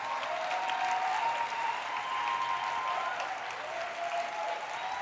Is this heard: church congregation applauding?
yes